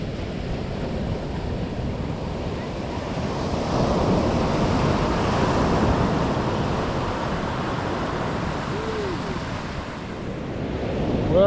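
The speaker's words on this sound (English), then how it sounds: "we're walking on the beach" Ocean waves breaking on a Lost Coast beach, a loud steady roar of surf swelling and easing under wind noise on the microphone.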